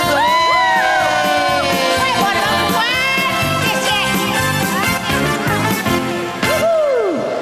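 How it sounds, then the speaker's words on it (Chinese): A wedding crowd cheers, shouts and whoops loudly after a group sing-along game, the noisy reaction layered with bright tonal music and voices throughout. "掌声鼓励。"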